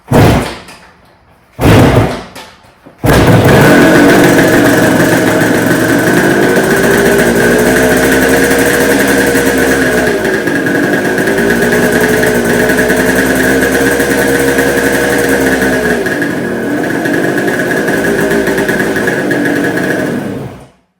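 A 1972 Kawasaki H1-B 500 motorcycle, a barn find revived after 25 years, kicked over with a few sharp knocks, then firing up and running loudly and close, idling with repeated rev swells before cutting off.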